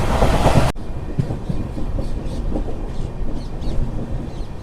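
Garib Rath SF Express carriages rattle at speed near Hindupur, a steady rumble with clickety-clack rhythm after a sharp cut from a louder burst at the start, heard from inside the train with no talk.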